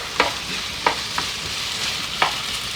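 Chicken sausage fries in olive oil in a pan, giving a steady close hiss of sizzling broken by a few sharp stirring scrapes, with no talking.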